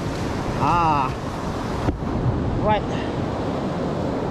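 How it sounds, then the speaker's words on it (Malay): Ocean waves wash onto a beach at a rising tide while fishing from the shore, a steady broadband surf roar with wind noise on the microphone, and someone speaks briefly over it. "Ombak dia satu-satu kan."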